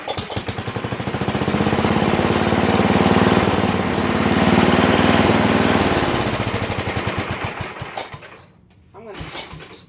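A 1969 Sears Suburban 12 tractor engine runs at a loud, rough, steady high idle close by, its pulsing chug continuing for several seconds before briefly dipping and picking back up.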